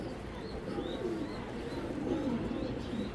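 A pair of big fancy pigeons, including a large hen, coo softly nearby in low, repeated throaty phrases over a steady background hum.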